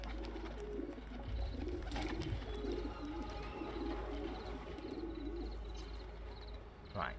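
Pigeons coo softly and repeatedly at a pigeon loft in Assassin's Creed 2, a steady layered murmur of calls over a low ambient rumble with a few brief chirps.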